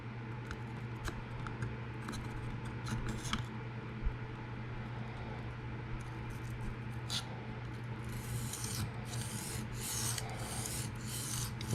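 A Kunwu Chad knife with a PM60 steel blade is sharpened freehand on a stone, the edge rasping in steady, quiet repeated strokes over a low hum, the scrapes growing brighter and more frequent toward the end.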